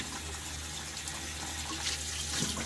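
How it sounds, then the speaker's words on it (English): Tap water runs steadily into a shaving bowl while a brush swirls inside it, a continuous close hiss and splash with faint brushing movement and a slight rise near the end. "So then I will turn on the water, start brushing around inside the bowl, just kind of like this while the water's running in it."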